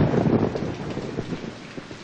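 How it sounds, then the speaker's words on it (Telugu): Heavy nighttime rain pours down in a steady, dense hiss, loud and unbroken, with a low rumble beneath like distant thunder and no voices. "అమ్మా భారతి, ఇంత రాత్రిపూట ఈ వర్షంలో ఎక్కడికమ్మా బయలుదేరావు?"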